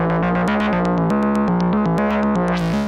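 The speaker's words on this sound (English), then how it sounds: "this is a non-effects inserted synthesizer" Behringer clone of the Moog Messenger synthesizer playing a dry, effect-free monophonic bassline: a steady stepping sequence of loud, buzzy notes with sharp attacks, shifting pitch every fraction of a second, with no other sounds.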